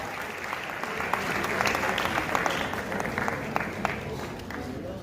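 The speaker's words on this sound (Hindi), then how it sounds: "एक बार पुनः तालियों का संगनाद।" An audience at a Jain heritage day memorial ceremony bursts into sustained applause, dense hand clapping filling the hall at a steady level throughout.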